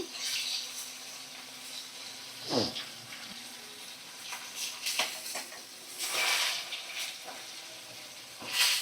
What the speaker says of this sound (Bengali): আর এক সাইডটা ভালো করে ভাজা করে নিচ্ছি